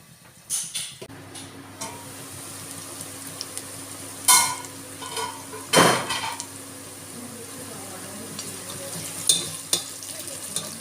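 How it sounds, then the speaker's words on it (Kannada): Onions fry in a pan with a soft, steady sizzle, broken by a few sharp stirring scrapes and clatters of utensil on pan spread across the clip. "ಈರುಳ್ಳಿ ಫ್ರೈ ಆಗಿದೆ"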